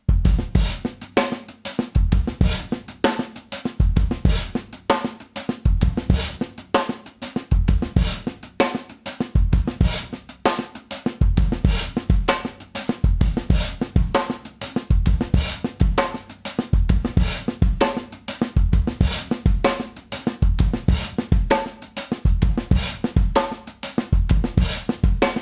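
Full drum kit grooving through a halftime shuffle, with an open hi-hat on the third partial; steady loud ghost-noted snare, kick and cymbal hits repeating without pause, no talking.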